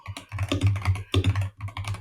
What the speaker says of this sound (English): Some more ASMR with my very clicky keyboard.